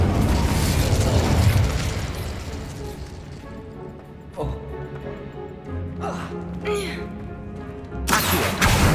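Fire spells cast in the video game Hogwarts Legacy, including Incendio, heard as a loud roaring burst of flame at the start, then softer whooshes and magical effects over a musical game background, with no talking.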